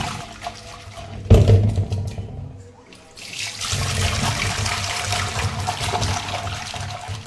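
Water gushes loudly from a tap while seafood is washed, stops briefly, then runs again steadily into a basin nearby.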